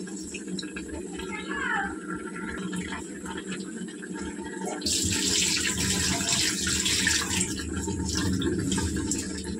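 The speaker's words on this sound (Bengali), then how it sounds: "এই চালটাকে ধুয়ে নেব" Rice being washed under a running tap, water splashing and gushing louder after the first few seconds over a steady background, with faint voices in the room.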